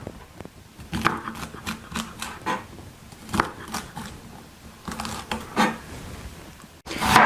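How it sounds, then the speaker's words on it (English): A knife cuts vegetables into 1-inch pieces on a cutting board, giving close, irregular knocks in short bursts with pauses between. "all we're going to do is we're just going to cut these into 1-inch pieces"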